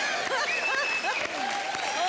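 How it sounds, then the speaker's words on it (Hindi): A studio audience on a Hindi TV comedy show applauds, giving a continuous, moderately loud wash of clapping that holds steady throughout. "जोरदार तालियां चेतन भगत के लिए।"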